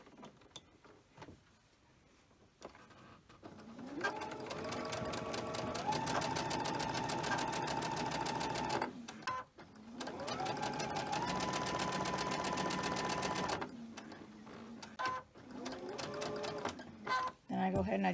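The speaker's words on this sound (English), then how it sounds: "I'm going to go ahead and I chain stitch these" A sewing machine chain stitches a quilt block, running in long close bursts of rapid, even mechanical whirring with short pauses between seams, while a person talks quietly in the background.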